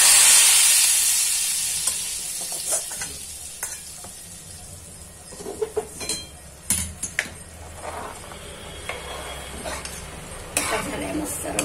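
A spiced mixture fries in oil in a pan, with a hissing sizzle that fades after the start, then scattered scrapes and clinks of a spoon stirring against the pan.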